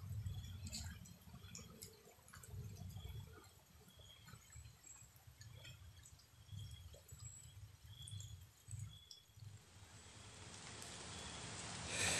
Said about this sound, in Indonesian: hujan semakin lebat dah